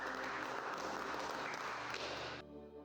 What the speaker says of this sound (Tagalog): Palakpak po sa Lord yung mga gumagalang sa Diyos.